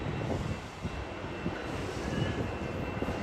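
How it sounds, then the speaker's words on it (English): Amtrak Capital Corridor #728 train standing at Oakland Jack London Square Station, a steady broadband rumble and hiss held close and loud throughout, with no voices. "they got that train going to Sacramento"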